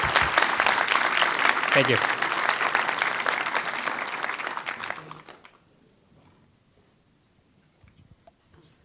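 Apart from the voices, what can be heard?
audience applause at a law school moot court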